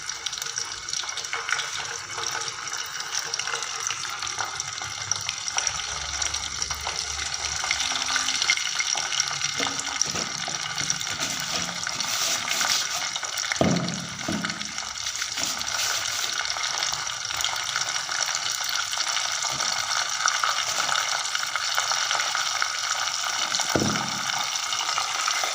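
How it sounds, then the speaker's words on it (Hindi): Food frying in a pan: a steady, loud broadband sizzle runs throughout the clip, with a few brief knocks near the middle and end, and no talking. "इसको करूँगी फ्राई।"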